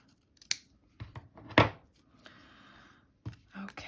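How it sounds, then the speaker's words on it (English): Scissors trimming a slightly overlong strip during a ribbon spool die-cut craft: a few sharp, close snips and blade scrapes spread over several seconds, with faint handling noise between them. "just cut that off slightly because it's a little bit too long"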